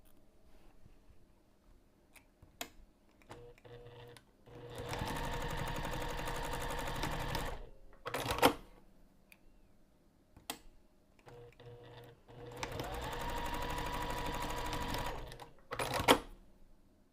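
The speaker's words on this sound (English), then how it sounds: "we're going to stitch both of the long edges using 1/4 of an inch seam allowance" A sewing machine stitches the long edges of a bag's chain strap at a quarter-inch seam allowance in two sustained runs of whirring, with clicks and small handling sounds in between, fairly quiet overall.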